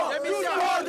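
A crowd of opposition protesters marches through the streets of Lomé, Togo, raising loud, overlapping shouts and chanting voices nearby in a brief burst.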